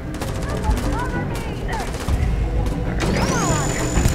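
A cutter weapon fires in the space game Starfield as a dense, continuous burst of crackling, buzzing energy and impact noise, with rising and falling synthetic whines and a steady high tone near the end.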